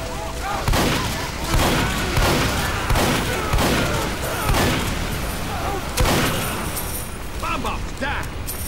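Shotgun blasts in Team Fortress 2 boom out at a steady rhythm of roughly one every second, loud and close, within a dense wash of other gunfire and explosions.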